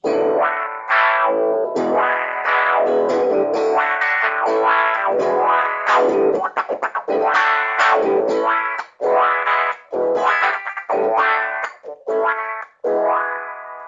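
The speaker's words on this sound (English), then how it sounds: "So this is the standard wah pedal." Electric guitar chords swept through a wah pedal, the tone sweeping up and down with each strum in a steady, rhythmic pattern, loud and close.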